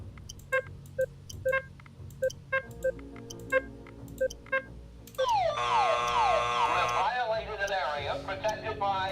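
Pulses of short electronic beeps repeat in a quick uneven rhythm, then a loud, continuous warbling alarm blares with sweeping tones, from the Burglar Alarm module in the game Keep Talking and Nobody Explodes.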